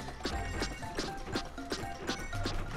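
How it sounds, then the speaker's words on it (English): Repeated smashing of objects in the Nintendo Land Pikmin Adventure video game, a run of regular thuds and cracking impacts roughly every third of a second over a busy game-music background. "Smashing my face into random objects."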